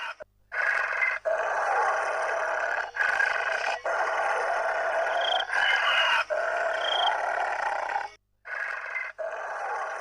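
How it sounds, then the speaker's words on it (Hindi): A cartoon witch growls loudly outside a house at night, delivering a series of long, harsh, rumbling vocal snarls in repeated bursts separated by brief silences. "चुड़ैल अमन के घर जाती है और घर के बाहर जोर जोर से गुर्राने लगती है"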